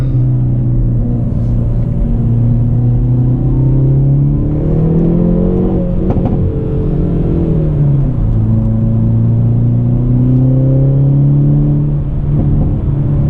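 A Hyundai Veloster N accelerates hard on a wet road, its engine droning loud and close inside the cabin, the tone climbing through the gears with brief dips at shifts, and no talking.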